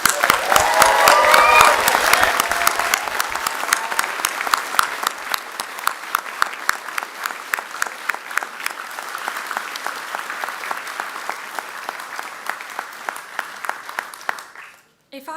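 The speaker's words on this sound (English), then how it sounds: "a big round of applause and all of the whooping and" Loud, sustained applause from a graduation ceremony audience in Carmarthen, dense rapid clapping filling the hall with some early cheering, gradually thinning to scattered claps before stopping abruptly near the end.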